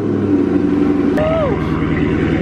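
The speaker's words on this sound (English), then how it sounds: "This is my cousin's car starting up." A loud Corsa car engine rumbles and turns over, its exhaust roaring up with a rising whine partway through, close by.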